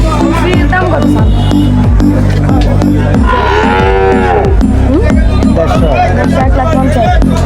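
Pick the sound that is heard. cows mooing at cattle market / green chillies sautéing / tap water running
cows mooing at cattle market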